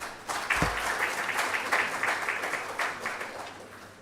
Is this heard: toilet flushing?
no